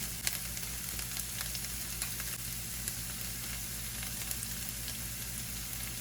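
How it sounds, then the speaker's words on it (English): Chili pepper frying in a pan, a steady close sizzle with faint crackles throughout and no talking. "a small amount of this chili pepper. I'm gonna fry that up."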